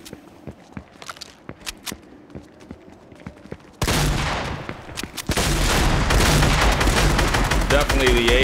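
AK assault rifle fire in Fortnite, a short run of sharp shots after scattered footsteps, then a loud sustained burst of rapid gunfire with booming impacts layered over game noise.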